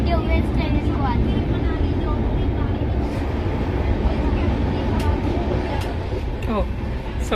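A train runs through a long tunnel, a loud, continuous low rumble and roar with faint squeals, while a person talks over it.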